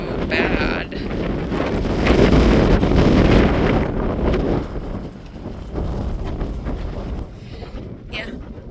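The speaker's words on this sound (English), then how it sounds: "Wind's blowing. Yeah, now. Heavy dust blowing." Strong desert wind in Quartzsite, Arizona, with heavy blowing dust, roaring steadily and loudly against the microphone in sustained gusts that swell and ease throughout.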